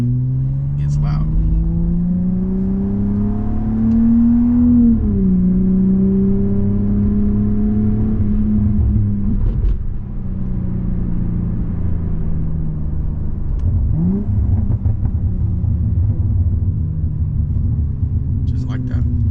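Cadillac ATS-V engine held above 3,000 rpm in manual mode, a loud sustained rumble that rises and dips as the revs change, with someone talking over it.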